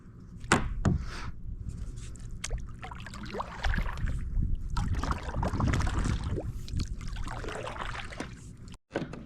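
A kayak being paddled for a fishing outing, with irregular splashes and strokes close by and steady water noise throughout, plus a brief bump near the end.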